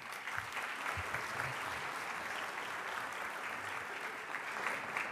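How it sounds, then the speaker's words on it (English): Audience at a leadership gathering applauding Reverend Walker, a steady, sustained roar of clapping from a large room, even and continuous from start to finish. "How about a round of applause for Reverend Walker?"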